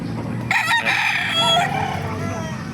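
A 10-month-old rooster at a poultry market in Bocaue, Bulacan crows once, close and loud, a rising then trailing call over low background chatter.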